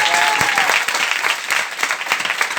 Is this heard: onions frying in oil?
no